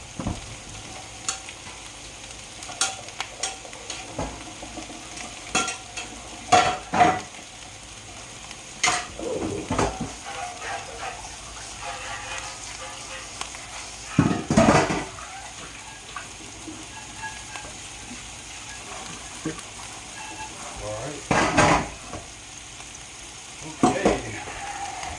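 Vegetables sizzle steadily in a hot pan while being stirred for a smoked sausage Alfredo, with a constant frying hiss broken by scattered clanks and scrapes of the spoon against the pan.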